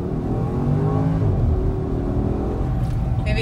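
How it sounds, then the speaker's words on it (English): A loud 2014 Porsche Cayenne Turbo S engine revving up and down nearby, a deep throaty rumble rising in pitch then easing off, heard on its own. "Listen to the engine."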